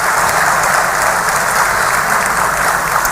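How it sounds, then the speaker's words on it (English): Audience applause at a diaspora town hall meeting in London, a loud, dense, continuous clapping from a large crowd filling the whole stretch. "that certainly deserves a massive round of applause in appreciation to our dear president."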